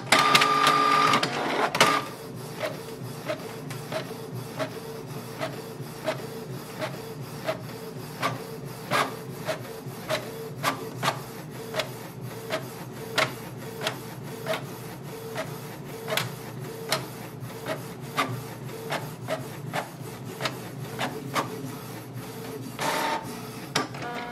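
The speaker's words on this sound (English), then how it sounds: "Now wait for the copy to start." A Canon Pixma TR4700 all-in-one printer copies an ID card, opening with a brief mechanical whir and then settling into a long run of regular clicking, ticking print-head passes at an even rhythm.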